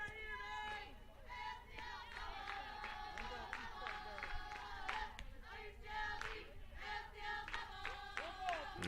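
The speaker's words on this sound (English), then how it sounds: "You probably hear the dugout for Ashland in full voice cheering on their teammate, Smithnowski." A softball dugout cheers and claps in full voice during a college game, with rhythmic clapping and shouted chants carrying steadily throughout, loud and close, over a hum of crowd noise.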